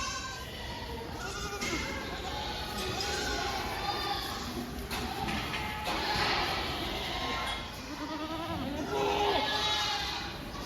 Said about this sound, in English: I think They've got some goats or something over here.